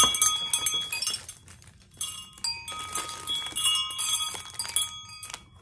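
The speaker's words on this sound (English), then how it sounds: "It is a sea turtle wind chime." A metal sea turtle wind chime rings in bright, shimmering clusters of tones, struck in several bursts that decay between strikes, close and clear with no talk.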